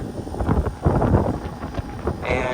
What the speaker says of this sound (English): It's windy today.